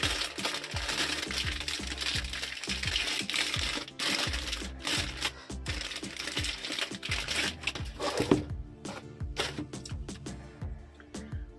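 A TDA 7265 dual-IC home theatre amplifier audio board is worked out of its socket, giving a dense run of close clicks, scrapes and plastic crackles that continue without pause.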